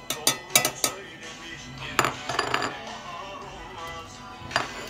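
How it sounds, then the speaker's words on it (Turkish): Chopped quince and apple pieces are dropped into a pot for a winter tea, giving a quick series of sharp clinks and knocks, then a later cluster of clatters, close by over a low steady background hiss. "Bunları önce küçük parçalar halinde doğrayıp koyuyoruz."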